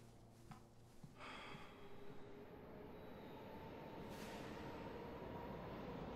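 Train pulling away from a railway platform, a steady low rumble and rolling noise that builds slightly and holds at moderate distance, with a faint tonal whine; no talking.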